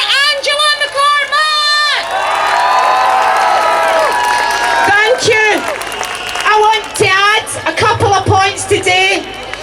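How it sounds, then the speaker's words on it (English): A large outdoor rally crowd in George Square roars with sustained cheering, whoops and shouting, loud and continuous, with high voices piercing through the dense wall of noise. "Start cheering and give it up"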